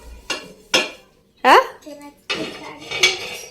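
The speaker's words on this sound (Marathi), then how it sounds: "हळू घासायची की धडाधड धडाधड आपटतीयस" Steel pots, pans and a tawa being washed: sharp metallic clanks and bangs with brief scraping scrubs, several close, loud impacts spaced irregularly.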